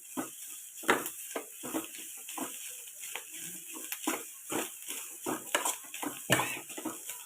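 Onions being stirred in a pan, with repeated scraping and clinking of a utensil against metal in an irregular rhythm over a quiet sizzle.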